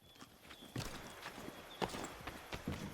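Horse hooves in Assassin's Creed III Remastered on the streets of Boston, a soft uneven series of clip-clop steps at walking pace, fairly quiet and alone.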